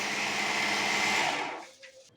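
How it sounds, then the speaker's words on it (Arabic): Blender whirring loudly as it purées onion and peppers, a steady high-pitched motor roar that holds, then winds down and stops near the end. "ونضربهم مع بعض"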